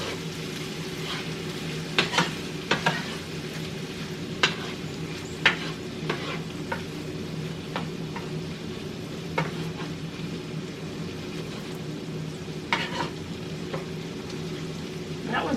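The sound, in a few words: green beans frying and being stirred in a pan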